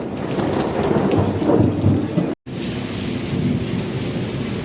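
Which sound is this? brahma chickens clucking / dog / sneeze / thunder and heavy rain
thunder and heavy rain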